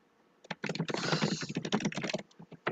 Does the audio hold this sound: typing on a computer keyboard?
yes